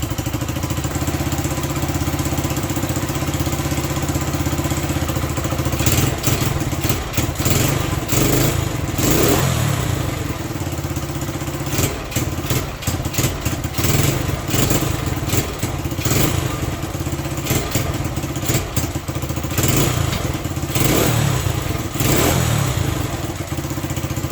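Honda SL100 motorcycle engine, freshly re-ringed, running steadily and loud up close, with repeated revving and a rattly, clattering idle throughout.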